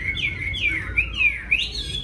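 A red-billed leiothrix sings a run of bright, rising and falling whistled phrases, close and clear, with a faint low background hum.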